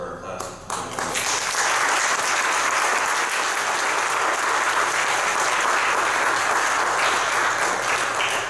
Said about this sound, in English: We could give one round of applause for our class.